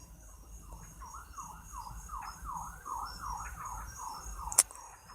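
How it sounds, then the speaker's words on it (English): An emergency siren wails in a repeating rising-and-falling cycle, moderately distant and steady, with one sharp click near the end and no talking. "Sirens."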